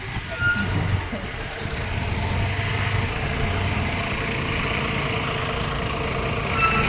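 A bus pulls up with a heavy engine rumble and a hiss of air brakes, close and steady throughout, with voices faintly in the background.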